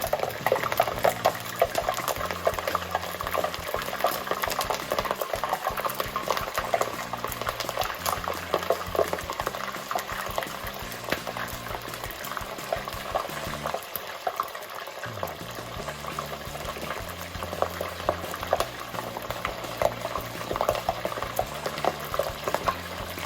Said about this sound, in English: And we'll fry for between 12 to 15 minutes depending on the size of your wings.